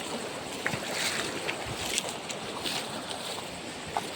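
Rushing river water as hikers wade across it, a steady broadband wash with faint splashes and small knocks, close by and without talk.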